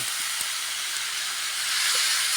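Water poured into a hot cooking pot while making a Thai pumpkin dish, a steady broad hiss of steam that rises slightly toward the end, loud and continuous with no voices.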